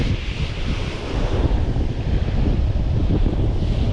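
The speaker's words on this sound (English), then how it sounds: "there's a lot of wind" Strong wind buffets the microphone on an open sea shore, a loud, continuous roar with surf washing underneath, steady throughout and alone with no voices.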